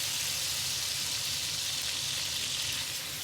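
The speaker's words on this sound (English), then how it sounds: "Turn up the heat and stir fry for color." Beef sizzling as it is stir-fried over high heat in a hot pan with ginger, star anise and sauce, a steady close crackling hiss that holds without pause.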